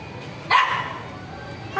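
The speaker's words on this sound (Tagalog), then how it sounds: "May cute na aso." A dog at an unlimited barbecue restaurant gives one short, sharp bark close by, standing out against a steady hum of background chatter, with a faint yip near the end.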